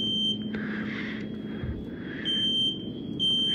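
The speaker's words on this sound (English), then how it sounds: "I'm not going to have my TV blasting some type of beeping sound" A beeping electronic alarm from a FNAF VHS tape video plays as repeated high-pitched tones over a low droning hum, steady and fairly loud, with no talking.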